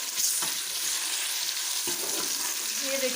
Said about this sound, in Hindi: इसलिए सारे अदरक लहसुन फ्राई हो जाएगा, प्याज भी और ब्राउन हो जाएंगे मज़ीद